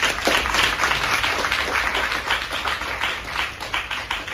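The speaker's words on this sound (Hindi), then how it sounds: "जोरदार तालियां हो जाए" A crowd at a party hall event gives loud, sustained applause, with dense overlapping claps continuing throughout.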